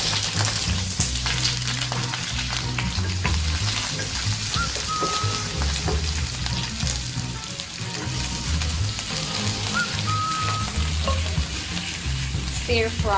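Spring onion and white onion stir-frying in very hot oil, a loud, steady sizzle and crackle running throughout with faint scraping of the pan.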